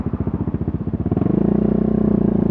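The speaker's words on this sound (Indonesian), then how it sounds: "Ini kencang banget sih ini motor." A heavy sportsmatic motorcycle accelerating hard, its engine pulses quickening from a chugging beat into a fast, steady rising drone, loud and close.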